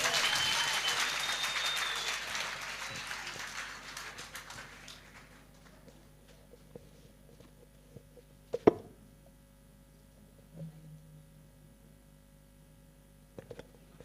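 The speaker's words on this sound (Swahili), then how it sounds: "Makofi." Congregation applause at a live Sunday church service, a broad burst of clapping that fades over about five seconds, leaving a quiet room with a few scattered knocks and bumps.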